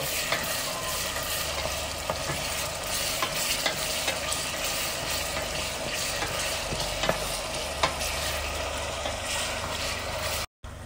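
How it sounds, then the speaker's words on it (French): Onions frying in a pan and being stirred, a continuous dense sizzle close to the listener, with occasional spatula scrapes and clicks and a brief cut near the end. "Vous mélangez bien. Ça, c'est que les oignons ils sont un peu dorés."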